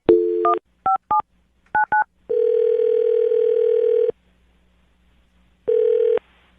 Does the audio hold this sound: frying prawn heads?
no